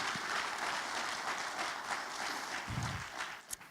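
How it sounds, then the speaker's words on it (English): Moderate audience applause at a literary lecture, steady clapping from a seated crowd that tapers slightly toward the end. "they should be here because I ordered them to be here so that we could applaud them"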